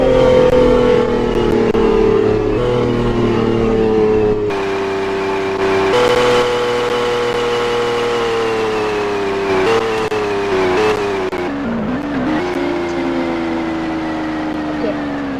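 Nissan GT-R in the video game Driving Empire, its engine droning and revving with shifting pitch, steady and close throughout, with a voice talking over it at times.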